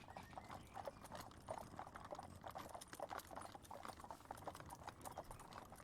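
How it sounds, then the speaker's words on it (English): Horse hooves clip-clop in a steady, continuous rhythm, sounding as a moderately loud sound effect with a faint background hiss and no talking. "Clip clop, clip clop."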